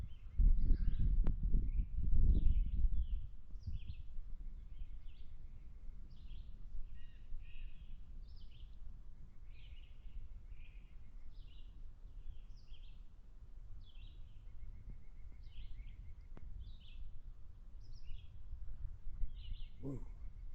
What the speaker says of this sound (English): You can hear the birds talking to each other.